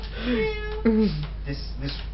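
Cats meowing, several rising and falling meows in quick succession at close range, fairly quiet over a steady background hum.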